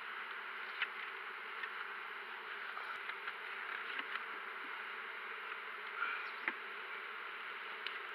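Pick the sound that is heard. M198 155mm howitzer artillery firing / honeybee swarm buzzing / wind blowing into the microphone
honeybee swarm buzzing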